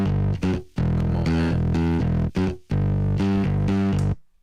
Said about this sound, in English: I got one more of the distortion unit that I love. Raw, the UAD Raw is dope.